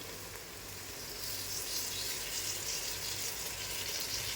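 Potatoes frying in a pan for a black-bean masala rice, a continuous soft sizzle that swells slightly after the first second, no voices.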